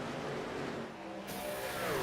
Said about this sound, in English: Yeah, I can actually hear them cut the trucks off now, coasting through the corners.